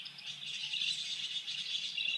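Pet bird singing steadily indoors, a continuous bright chirping warble that stays fairly close and even in level, with no talking over it.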